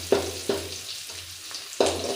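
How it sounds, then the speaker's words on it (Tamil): Vadagam seasoning frying in oil for a South Indian fish curry (meen kuzhambu), with soft continuous sizzling and a few sharp spattering bursts spaced through the clip, close up with no talking. "இதெல்லாம் வாசனை நல்லா பொரிட்டோம், பொன்னிறமாகட்டும்."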